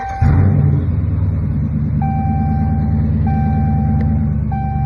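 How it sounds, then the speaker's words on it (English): A 2017 Dodge Challenger engine fires with a sudden burst and settles into a steady, close rumble. Thin electronic chime tones repeat over the idle. "we want to start the vehicle."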